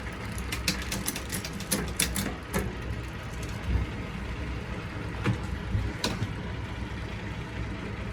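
A worn, shot freehub body on a bicycle wheel ticking as it spins, a steady close rattle with a run of sharper clicks early on, then a softer continuous buzz.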